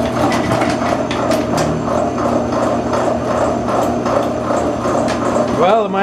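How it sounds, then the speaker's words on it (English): A big bandsaw cuts through a stout steel car drive shaft, making a loud, steady mechanical grind with repeated rattling ticks, and a rising whine enters at the very end. "So we're going to cut it on the big bandsaw and see how we can do"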